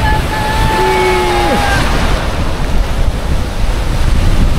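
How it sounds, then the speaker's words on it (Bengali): Big ocean waves roll and crash at Cox's Bazar beach as a steady broadband roar, with wind buffeting the microphone and a faint whistle-like tone early on. "ঢেউ কিন্তু বিশাল বিশাল ঢেউ"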